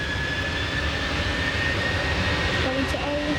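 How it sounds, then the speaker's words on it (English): Boeing 737-800 jet engines at Manchester Airport spool up as the aircraft prepares for takeoff, a steady broad roar with a high whining tone, heard from a distance throughout with airport ambience. "And now just getting ready to set off this jet too."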